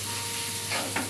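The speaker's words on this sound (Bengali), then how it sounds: "কিছুটা নেড়ে" Curry with turmeric stirred in a pan makes a soft, steady sizzle with a couple of brief scraping strokes near the end, close and fairly quiet.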